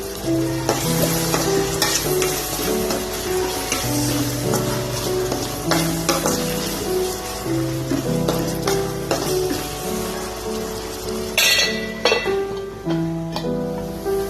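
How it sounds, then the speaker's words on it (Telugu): Onions fry and sizzle in a pan on a home stove while being stirred, giving loud continuous crackling close by with repeated scraping strokes and faint background music. "ఇలా ఉల్లిపాయలు బాగా వేగిన తర్వాత"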